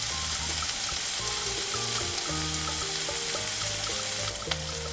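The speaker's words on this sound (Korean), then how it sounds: "냄비에 식용유를 두르고 쫑쫑 자른 대파와 잘게 자른 양파를 넣고 파기름을 내줍니다" Steady oil sizzle of chopped green onion and onion frying in a pot, continuous and close, with light clinks and stirring noises on top.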